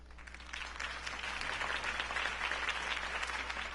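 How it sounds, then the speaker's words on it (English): A crowd in a Batman video game claps steadily and loudly, a dense wash of applause sustained throughout over a low constant hum. "could have heard that applause"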